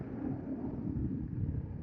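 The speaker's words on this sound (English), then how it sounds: "It's a pretty windy day, as you could probably tell." Steady low rumbling wind buffeting a microphone on a moving BMW F650 Funduro motorcycle, continuous and fairly loud throughout with no voices.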